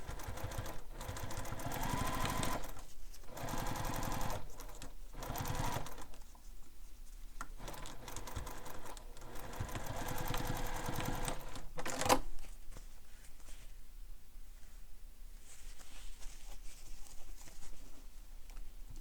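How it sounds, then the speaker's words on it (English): A sewing machine restitches a handmade bag, running in two long stretches of rapid mechanical stitching broken by short pauses, then falling to quiet handling sounds and a low hum. No speech. "So I'm going to re-stitch."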